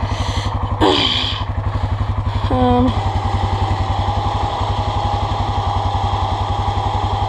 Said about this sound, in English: Let's see if this winch can't get me out of this sticky situation here.